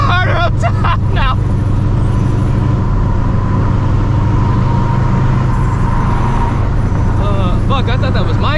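A supercharged 600 hp New Edge Mustang GT pulling hard, its loud, steady engine roar filling the cabin, with voices shouting briefly at the start and again near the end.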